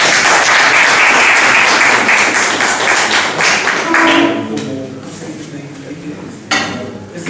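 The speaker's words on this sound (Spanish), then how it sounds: "Un aplauso a los participantes." An audience at a multidisciplinary workshop at an agricultural preparatory school in Chapingo claps loudly for the participants, the burst fading after a few seconds into scattered claps and light room noise with voices nearby.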